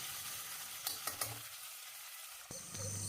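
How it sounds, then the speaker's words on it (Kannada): Sliced onions fry in oil for an egg biryani, a soft steady sizzle with a few sharp stirring clicks and scrapes of a spoon in the pan, close and fairly quiet, with no voices. "ಈರುಳ್ಳಿ ಸ್ವಲ್ಪ ಮೆದುವಾಗಬೇಕು ಒಂದು ಅರ್ಧದಿಂದ ಒಂದು ನಿಮಿಷ ಈ ರೀತಿ ಎಣ್ಣೆ ಜೊತೆಯಲ್ಲೇ ಫ್ರೈ ಮಾಡ್ಕೋಬೇಕಾಗತ್ತೆ"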